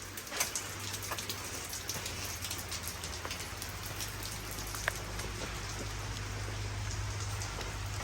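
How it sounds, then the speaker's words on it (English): Steady rain falls outdoors, a dense even hiss of drops on surfaces with scattered louder patters and a low constant hum underneath, no voices. "whenever it's raining outside"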